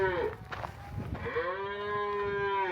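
Cattle moo loudly on a ranch with a 1,200-head herd, two long drawn-out lowing calls, the second fuller and sustained, over faint background noise.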